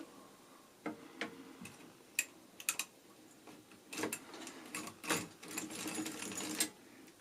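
A hand-cranked circular sock knitting machine clicks and clatters as it is turned, irregular bursts of rapid mechanical ticks and rattles with short lulls, close and fairly quiet, no voices.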